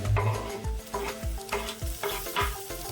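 Gunda flower buds fry lightly in a pan for a Gujarati vegetable dish, a continuous sizzle with rhythmic scraping strokes of a spatula about every half second, close and fairly loud.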